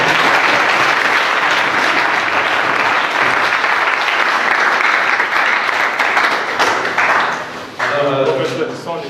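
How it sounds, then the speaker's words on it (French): An audience bursts into loud, sustained applause greeting Protestant pastors and bishops at a gathering, a dense wash of clapping that thins toward the end as a voice begins to speak. "Est-ce que nous pouvons d'abord acclamer pour saluer?"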